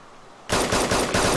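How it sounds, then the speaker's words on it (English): Automatic gunfire in the video game DayZ erupts suddenly after a quiet moment, a loud, close burst of rapid shots continuing in dense rattling waves. "They're shooting me."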